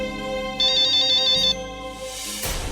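An incoming-call phone ringtone plays loud and close, a bright repeating electronic melody with a sharper burst midway, alone without talk.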